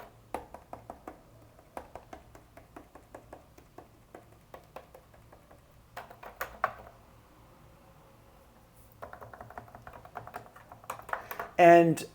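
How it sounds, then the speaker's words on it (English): Quiet clicky keyboard typing in quick irregular bursts with short pauses, close by, with a soft low hum underneath and a brief louder tone at the end. "that's what keys I'm pressing on my keyboard"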